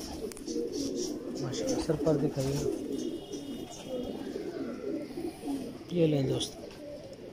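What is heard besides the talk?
Mistri pigeons cooing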